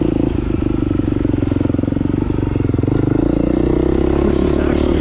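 Husqvarna motorcycle engine running steadily up close while riding a tight, twisty trail, a continuous loud rumble with fast rhythmic pulsing, rough clatter and crackle.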